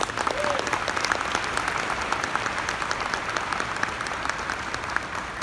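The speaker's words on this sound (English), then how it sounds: "Please, another round of applause for Brianna Mims." A conference crowd at a closing session gives a dancer sustained applause, a thick, even roar of clapping filling all five and a half seconds, with a faint voice or cheer just audible early on.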